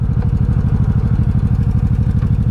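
A 1984 Honda Shadow 700 (VT700C) V-twin engine rumbles loud and close on deceleration, a steady pulsing low throb with a rhythmic exhaust beat and light mechanical clatter.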